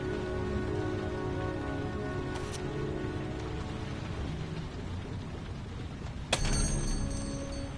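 Rain falls in a PS4 video game as a steady, dense hiss of drops on surfaces, with a sharp click or knock just before the end.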